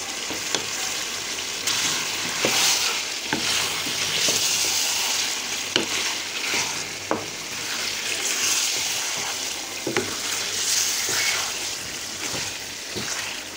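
Tomatoes hit hot oil in a chicken biryani masala, setting off a steady loud sizzle and crackle with occasional sharp ticks and stirring scrapes, close by and with no talking.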